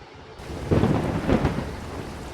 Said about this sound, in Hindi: बाहर आसमान में बिजली कड़की और बारिश फिर शुरू हो गई।